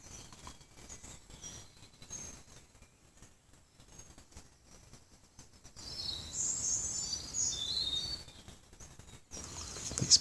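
Birds chirp and trill in high, scattered calls that swell louder in the second half, over faint outdoor rustle and patter.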